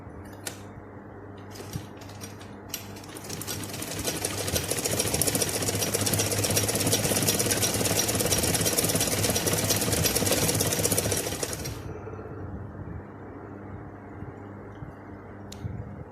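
A sewing machine that has just had its upper and lower thread tension adjusted runs a burst of stitching. It gives a fast, steady mechanical whirring for several seconds, close and even, then stops, leaving quiet room tone.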